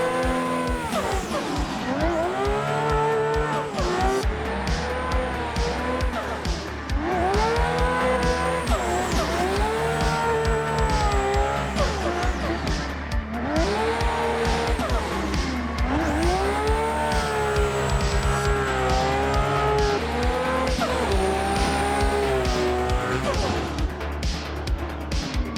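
In the racing game Assetto Corsa, a BMW E46 drifts with a loud engine that surges and falls in repeated rev swells. Tires squeal continuously through the slides.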